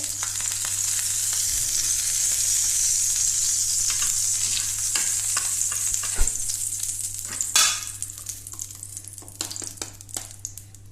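Oil sizzling hot in a pan for frying eggs, a loud continuous hiss with occasional clicks and scrapes that eases slightly toward the end.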